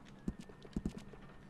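The hooves of a black horse clip-clop in Red Dead Online, a few close, distinct knocking steps in an uneven walking rhythm over quiet ambience.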